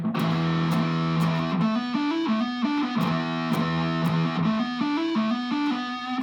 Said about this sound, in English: So if I turn on my distortion, do a fuzz, and I put that opening riff.